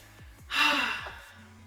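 Sweet Peach setting spray is spritzed onto a face in one soft, hissing burst lasting about half a second, close and clear, framed by faint background tones.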